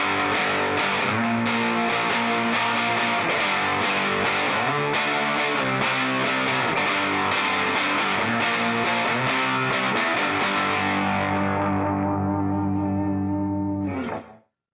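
An electric guitar plugged into the normal input of a Vox AC15 tube amplifier strums chords with a warm, slightly dark tone, ringing steadily before fading out with a final brief strum.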